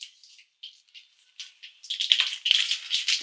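Mustard seeds popping and crackling in hot oil in a pan for bachelor-style egg biryani, faint scattered pops building into a denser, louder sputter over the last second or so.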